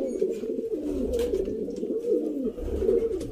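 Lakha pigeon cooing in steady, rolling low coos that run continuously for a few seconds, close by, with no talk over it.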